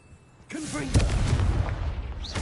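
A Confringo blasting curse in Hogwarts Legacy erupts as a loud, booming fiery explosion that follows a short cast, with a rumbling tail and voices behind it.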